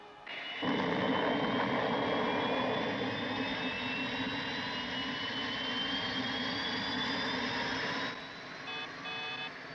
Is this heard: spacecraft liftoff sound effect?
yes